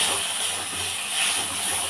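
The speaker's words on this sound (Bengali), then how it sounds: "এখানে হচ্ছে ট্যাংরা মাছ, এটা কষা হবে। আর এই কষাচ্ছি" Tangra fish sautéed (kosha) in a pan gives a steady, even sizzling hiss that runs unbroken throughout, with no voices.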